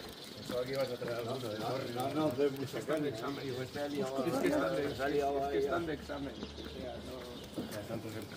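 Birds sing and pigeons coo on an early morning just outside Puente la Reina, on the way toward Estella, with steady overlapping calls throughout and fairly close, continuous chirps and coos.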